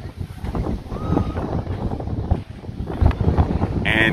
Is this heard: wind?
yes